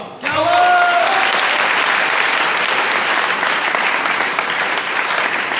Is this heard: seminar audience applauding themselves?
yes